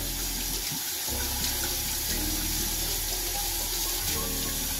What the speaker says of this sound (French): Donc pour commencer, vous allez avoir besoin de l'eau chaude de robinet.